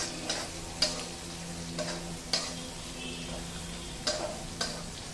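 Urad dal sautéing in a pan for rava upma, a soft steady sizzle broken by a few sharp clicks of a spoon against the pan, quiet and close with no talk.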